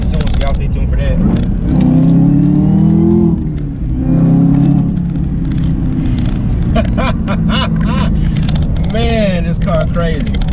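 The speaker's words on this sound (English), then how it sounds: "the automatic comes with a 10-speed that's shifting like this" A Chevrolet Camaro ZL1 with a 10-speed automatic revs loudly from inside the cabin, its engine note rising and dropping as it shifts gears, with someone talking over the engine throughout.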